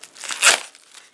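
Thick foam packaging on a Japanese Club Nintendo exclusive soundtrack package is pulled away, giving a short crinkling, tearing rasp that peaks sharply midway through before fading to faint rustles.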